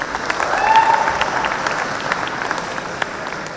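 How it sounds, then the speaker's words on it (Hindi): Sustained audience applause from a crowd at a business conclave festival evening, steady dense clapping with a whistle-like tone briefly audible early, filling the hall without talk. "इसके लिए एक बार तालियां बजनी चाहिए।"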